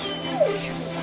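A dog gives one short, falling whimper midway through a trailer for the movie Air Bud, with a steady music or background bed underneath.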